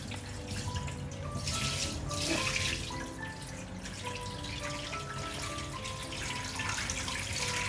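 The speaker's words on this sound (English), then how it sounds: "we're gonna drain them off slowly" Water draining slowly off soaked Thai sticky rice into a sink, a steady trickling and dripping flow that runs continuously and close by, with no voices.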